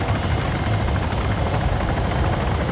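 Helicopter in a video game set over snowy tundra, its rotor beating steadily and loud throughout, a dense continuous chop with engine whine, no pauses or talk over it.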